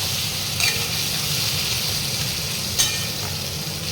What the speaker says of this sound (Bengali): ক্যাপসিকাম আর টমেটোটাও দিয়ে দিলাম। এটাকে নাড়বো।